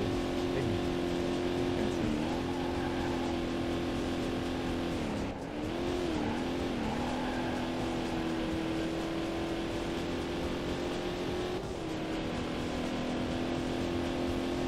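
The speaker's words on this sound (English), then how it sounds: "The car do be pretty loud." A Chevrolet Corvette C4 with a six-speed gearbox races in the PC game Corvette: 50th Anniversary, its engine a loud, sustained drone that dips briefly at gear shifts and then climbs again.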